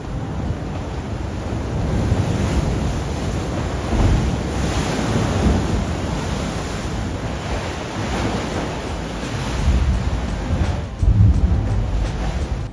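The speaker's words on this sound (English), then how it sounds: "the real exciting part of the churn is all the way at the very end, where the crack terminates and waves meet their abrupt end" Ocean waves surge and crash into a narrow rock crack at the churn in Yachats, Oregon. The roar is loud and continuous, with heavy wind buffeting the microphone and no talking.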